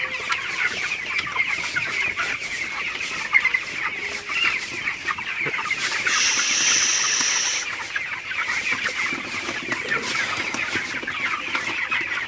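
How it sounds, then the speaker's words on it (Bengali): Broiler chickens in a poultry shed at night cluck and murmur steadily while drinking vaccine-dosed water, a dense, continuous flock chatter with occasional sharper calls, close and moderately loud. "মুরগিগুলো ভ্যাকসিনের পানি খাইতেছে।"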